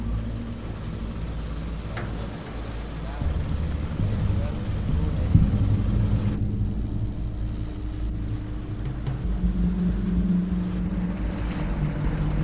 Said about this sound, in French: le bruit du moteur les a alertés depuis très longtemps